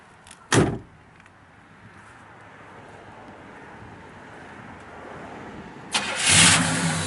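A 1966 Pontiac GTO LeMans sits quiet, then a car door thuds shut, a low idle-like hum builds slowly, and the engine cranks and catches loudly at the end.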